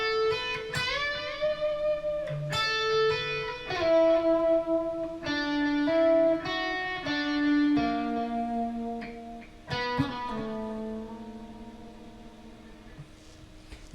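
Electric guitar plays a lead lick slowly, note by note in a pentatonic shape with bends, a clear run of sustained, overdriven single notes and no talking.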